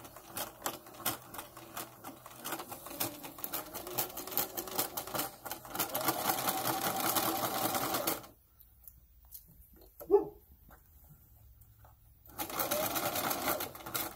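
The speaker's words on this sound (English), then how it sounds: "now we are going to sew it" Sewing machine stitching a quarter-inch seam through fur fabric for a plush dragon's leg and foot, a fast steady whir that runs loud, pauses into near silence with a single click, then starts stitching again.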